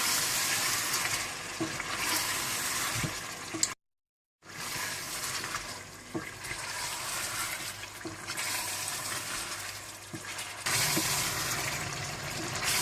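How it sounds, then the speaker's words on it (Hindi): Coriander powder, whole cumin seeds and salt fry in a pan with a steady, loud sizzle. The sizzle cuts out briefly once, then continues unbroken. "धनिया पाउडर भी डाल दें और साबुत जीरा भी, नमक भी डालकर इसको आप भून लें।"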